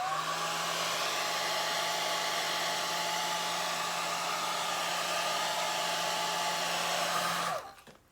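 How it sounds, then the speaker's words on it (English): A hair dryer blows loudly and steadily at close range with a constant whine, drying alcohol ink on a sponge art piece, then switches off near the end. "plug your ears, here goes the hairdryer"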